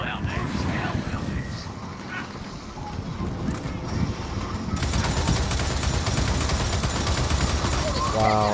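Sustained turret gunfire in the shooter game Gears of War 4, a dense continuous rattle of shots that swells louder midway, with a voice talking over it.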